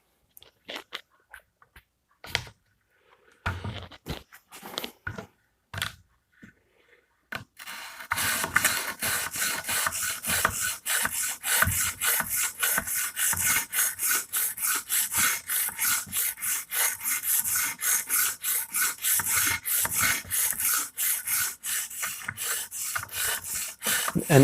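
An Emerson Karambit Tanto knife with a chisel grind is rubbed against a sharpening stone, a few scattered scrapes at first, then a long, steady run of rapid rhythmic grinding strokes, close and clear.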